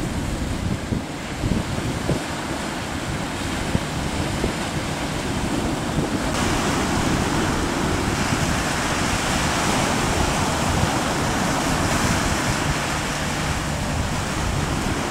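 Heavy sea waves and strong wind batter a fishing boat heading out to open water, a continuous loud, rushing roar with no voices.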